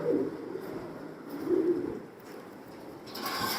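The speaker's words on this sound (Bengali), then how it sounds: "খুবই চমৎকার একটা কবুতর" Racing pigeons in a loft give soft, low, rolling coos in a few separate bursts, fairly close over a quiet background with no talking.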